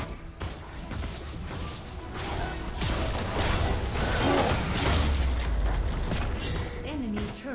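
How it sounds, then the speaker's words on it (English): An enemy turret collapses in League of Legends with a heavy rumbling boom and crashing debris, layered over busy game effects while a voice speaks in the mix. "Enemy turret destroyed."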